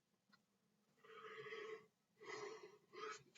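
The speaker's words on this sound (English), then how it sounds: "Yawning again, apologies." A person yawns softly close to the microphone, with a long breathy exhale, a brief pause, then two more drawn-out airy breaths.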